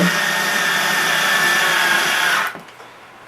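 Power drill driving screws into the body of a refurbished tenor bass, a loud steady whir lasting over two seconds before cutting off abruptly, nearby and alone.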